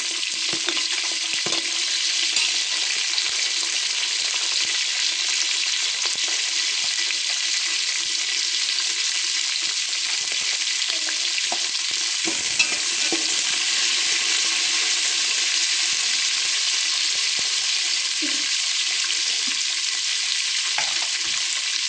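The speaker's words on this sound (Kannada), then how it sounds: "ಸೊ ಉಳ್ಳಾಗಡ್ಡಿ ಬ್ರೌನ್ ಕಲರ್ ಬರಬೇಕು, ಅಲ್ಲಿವರೆಗೆ ಫ್ರೈ ಮಾಡಿ." Onions fry for pulao in a hot pan, a dense, steady sizzle and crackle that holds evenly throughout, close and fairly loud, with occasional faint scrapes and no talk.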